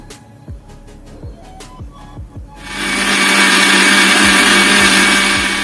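A mixer grinder starts after a few scattered knocks and then runs at a loud, steady whir, grinding cooled tomatoes into chutney for several seconds.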